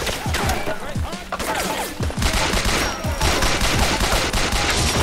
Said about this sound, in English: I shot him in the crotch like 80 times.